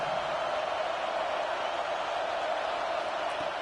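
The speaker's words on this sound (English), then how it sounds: "And here comes the noise. This crowd is trying to inspire this defense to make a big red zone stop." Football stadium crowd roaring during a college game between Ole Miss and Tennessee, a steady, dense wash of noise filling the whole clip, loud and unbroken, with no distinct voices standing out.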